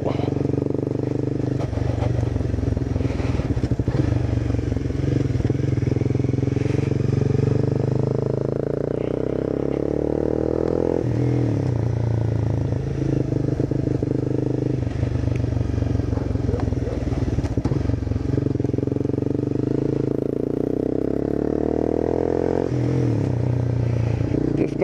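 A Honda CBR 250 motorcycle is ridden with a loud, continuous engine drone that climbs in pitch and drops at each gear change, repeating over the ride amid constant wind and road rumble.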